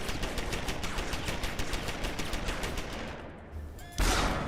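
Rapid 10mm gunfire in a video game, a fast, even string of sharp close shots for several seconds, then a brief lull before a louder burst of noise.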